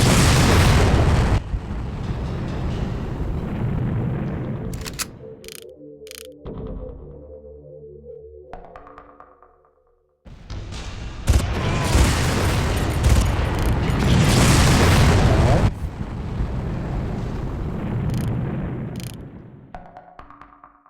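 Loud, heavy booms from rocket launcher blasts in the Far Cry video game, with two long roaring explosion bursts separated by a quieter stretch of rumbling debris and game sound effects.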